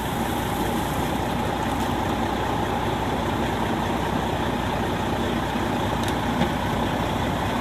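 A fire engine's pump engine idles after drafting water, a steady loud mechanical drone holding an even pitch throughout without changes.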